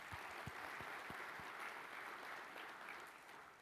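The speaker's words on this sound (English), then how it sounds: "Let's give them a round of applause today." Applause at a city State of the City event for Santa Ana, steady crowd clapping heard faint and distant, with a few sharper low thumps early on before it gently tapers.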